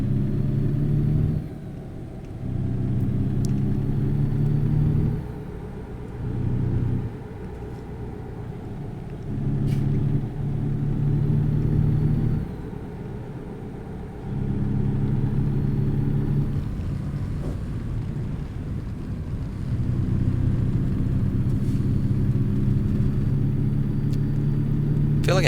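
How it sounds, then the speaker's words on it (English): Truck engine in American Truck Simulator drones steadily at a low pitch, its loudness rising and dipping in repeated surges as the truck drives on, with no talk over it. "Truck sounds good though, as always."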